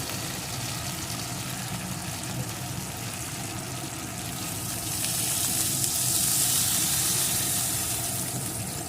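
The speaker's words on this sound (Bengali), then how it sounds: "এর ভিতরে আমি এখন একটু জল দিয়ে দেব" Vegetables frying in a pan with tomato and onion for an eggplant dish; a steady close sizzle throughout, swelling into a brighter, louder hiss about halfway as water is poured in.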